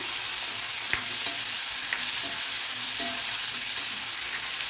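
Onions and a small tomato sautéing in a pan, a constant bright sizzle with a few faint clicks of stirring and no talking.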